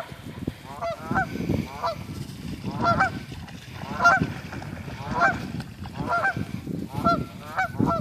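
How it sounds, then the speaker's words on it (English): Geese honk repeatedly in a rhythmic series of loud, nasal calls, close by over a low rumble of background noise, with no talking. "Get the goose, Buzz."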